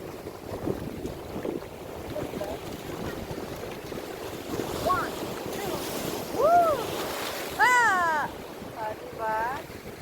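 Waves surging against the shore at Laki Beach in Mariveles, Bataan, a steady wash of surf with wind buffeting the microphone, while a few high chirping or whistling calls rise over the water near the end.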